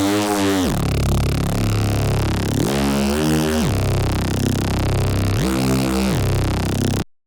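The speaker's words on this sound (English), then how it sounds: "Bass Gritty is a really filthy one. You can also use it as a Reese if you filter it out" Gritty, filthy Reese bass sample from a Future Rave sample pack, played with its filter fully open: a loud, buzzing, detuned sustained bass with a few pitch drops and swells, alone, stopping abruptly at the end.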